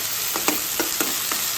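Capsicum and mixed vegetables for a Maharashtrian bhaji fry in hot tempering oil with garlic-ginger paste and chillies, giving a steady close sizzle broken by several quick crackling pops.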